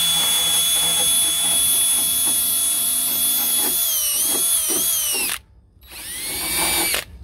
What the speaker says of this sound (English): take the wire wheel on the drill